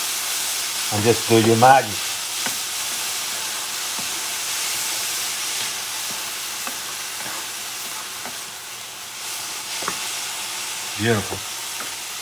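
Soy sauce sizzles in a hot pan with leftover turkey, a soft steady frying hiss under the food, with a few louder stirring bursts and a person speaking briefly.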